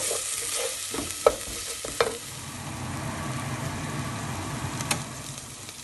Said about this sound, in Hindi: हांव आतां गार्लीक पेस्ट घालता ओलो तो आनी बरो मिक्स कर